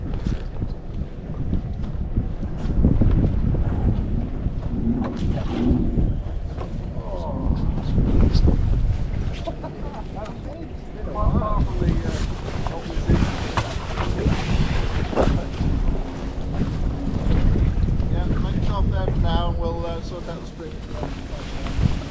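A sailboat moving under wind, with constant rough wind buffeting and water rush filling the whole stretch, plus occasional creaks and rigging sounds, no clear talk.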